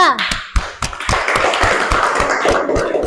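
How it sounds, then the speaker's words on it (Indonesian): Classroom audience of students applauding a presenting group during a teacher performance test, a burst of close, sharp hand claps with irregular taps building into steady clapping. "Baik adik-adik, berikan aplaus dulu untuk kelompok 2"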